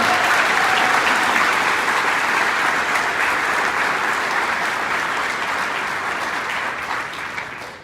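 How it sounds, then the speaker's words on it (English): Audience applause at an evening charity event honoring children who beat cancer, a dense, loud, steady roar of clapping from a large crowd that holds throughout and tapers slightly at the end. "Big round of applause."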